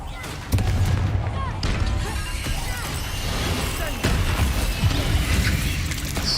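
Repeated Confringo fire spell blasts from the video game Hogwarts Legacy land as sharp booms and crackling impacts over rumbling combat effects, with a player's voice talking throughout.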